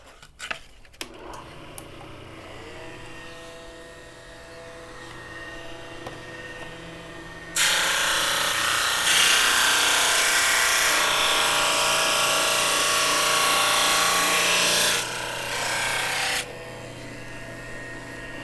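A belt-fed sander flattening split wooden boards for desk name plates, its loud steady grinding roar starting abruptly partway through, running for several seconds with a brief dip, then cutting off; quieter workshop noise with a few knocks before and after.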